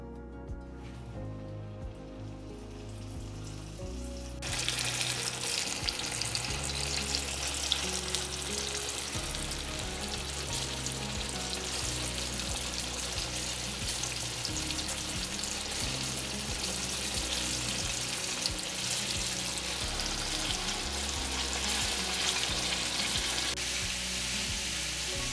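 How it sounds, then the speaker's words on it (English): Cornstarch-coated Gulf grouper hits hot oil for Chinese salt and pepper fish, setting off a loud, steady crackling sizzle after a few quieter seconds, and it keeps up without a break. "So we got our fish. It's been in that bowl since we've been heating up the oil. This is cornstarch."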